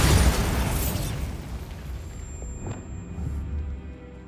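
A Bombarda spell explosion in Hogwarts Legacy: a loud, heavy burst right at the start that rolls into a long, fading rumble with faint debris clatter and a thin ringing tone trailing off.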